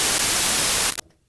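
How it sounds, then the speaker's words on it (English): A vintage 1969 Moog 903A random signal generator module puts out white noise, a loud, bright, hissing static burst lasting about a second before cutting off abruptly to near silence. "This is the random signal generator or noise. Here's your white noise."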